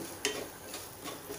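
Turmeric, asafoetida and coriander powder sauté in a pan for a dry cluster-bean dish, giving a soft sizzle with a few light scraping stirs, close and quiet, no talk.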